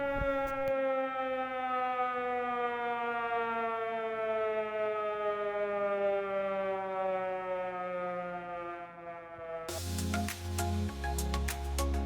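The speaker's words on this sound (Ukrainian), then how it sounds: "якщо звучить сигнал Увага, повітряна тривога" Civil defense air raid siren blares with a long, steady, loud wail that slowly falls in pitch, then cuts off into a different electronic tone burst near the end, with no talk over it.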